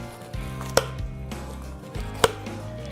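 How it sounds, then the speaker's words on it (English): A knife works along the bones of a wagyu rib eye, giving two sharp close knocks about a second and a half apart over a sustained low hum. "run the knife one by one down the bones"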